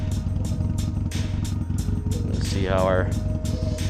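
A Harley-Davidson Iron 883 with a small cafe fairing cruises on the highway, its steady engine drone and wind rush continuous throughout, with someone talking over it.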